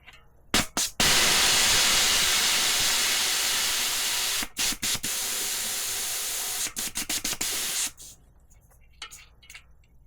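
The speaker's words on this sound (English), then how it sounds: "I'm going to let a little pressure out" Air hisses out of a tandem bicycle tire valve in loud sustained bursts, with short gaps and several quick stop-start releases before trailing off, no talking.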